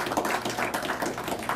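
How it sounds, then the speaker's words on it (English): An audience at an astronomy club's monthly evening meeting gives a brief round of applause: quiet, steady patter of many hands clapping, no voices over it. "Yes, round of applause."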